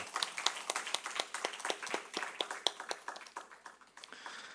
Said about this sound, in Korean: 우리 다 이루어진 하나님께 감사의 박수 보내도록 하겠습니다.